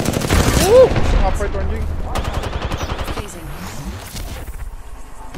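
Rapid bursts of gunfire from the shooter video game Apex Legends crackle and rattle in quick volleys, with a loud hit early, while players talk over the shooting.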